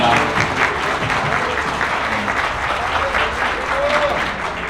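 Wedding guests at the Amor Hall of Wedding City Sindorim applaud the couple in a loud, steady wash of clapping that fills the room, with faint voices mixed in under it.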